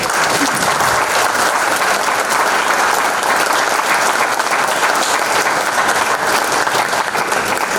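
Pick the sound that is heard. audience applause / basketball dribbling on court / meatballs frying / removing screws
audience applause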